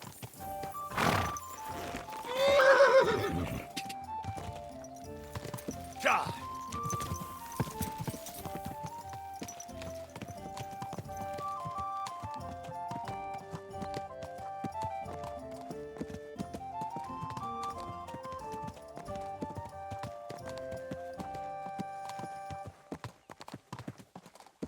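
Horse whinnying in the medieval role-playing game Kingdom Come: Deliverance 2, a loud neigh early on followed by steady clip-clopping hooves under an ongoing orchestral music score.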